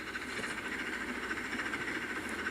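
Oil-burning steam locomotive in a railroad simulation game runs steadily with a continuous hiss and rolling rail noise, even and moderately loud throughout, with no voices.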